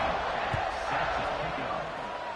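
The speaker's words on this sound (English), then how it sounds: "this crowd is buzzing after that last score" A football stadium crowd at a Penn State versus Ole Miss game buzzes after a touchdown, a dense, steady roar of distant voices filling the whole stretch, with a commentator's voice faintly over it.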